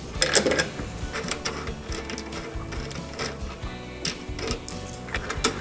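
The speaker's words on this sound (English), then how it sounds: "So I'm taking off the nut." Nuts are wound off the handlebar bolts of a Cobra RM46SPC lawn mower, giving close, irregular metallic ticking and clicking with small rattles, and no voices.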